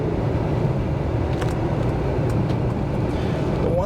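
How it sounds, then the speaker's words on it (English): A 2023 Mercedes GLC300 4Matic Pinnacle accelerating on the road around Naples or Bonita Springs, a steady engine and road drone with smooth gear changes, heard from inside the cabin without talk. "see how that vehicle accelerates. And there we go. Nice, smooth shifting."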